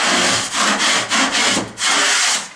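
A knife rasps back and forth across dried drywall mud on an interior wall in a series of quick, close scraping strokes with short gaps between them.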